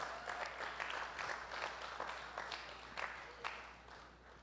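A church gathering audience claps for guests in a moderate, fairly distant patter with scattered louder claps, with no talking over it.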